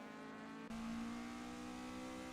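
A Toyota AE-86 race car engine in a sim race at Gimli Motorsports Park, loud and steady as it holds against the rev limiter with a sharp jump in level partway through.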